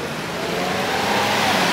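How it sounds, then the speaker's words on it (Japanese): A car passes by on a nearby road, a brief, steady broadband rush that swells slightly louder, with no voices. "車の音とか消えますでしょうかね"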